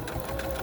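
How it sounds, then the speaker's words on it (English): A drop-in bobbin sewing machine runs a zigzag stitch in a short, steady, close-up burst of fast mechanical needle clatter. "Let's redo this zigzag stitch."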